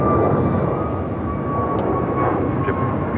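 A jet airliner taxis at Los Angeles International Airport, turning onto taxiway Kilo, its engines giving a loud, constant rumbling drone with a steady whining tone, heard up close and without a break.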